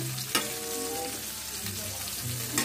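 Fried food sizzles in a hot pan during home cooking, a steady crackling hiss with occasional stirring clatter and no talking.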